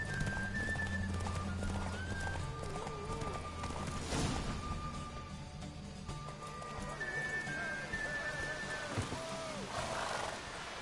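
A horse gallops and neighs during a race in The Witcher 3 on PS4, hooves clip-clopping steadily beneath whinnies, with game music and a voice or two mixed in.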